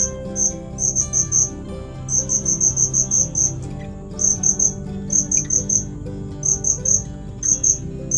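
Crickets chirp in rhythmic pulsing bursts, high and shrill, repeating steadily over a low background hum.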